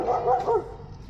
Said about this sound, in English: The guard dogs were a little weary of our late night arrival.